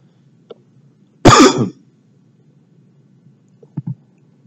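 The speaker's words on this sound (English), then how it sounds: "I apologize for my coughing." A single harsh cough bursts out loud and close, followed by quiet, then two short faint throat sounds near the end.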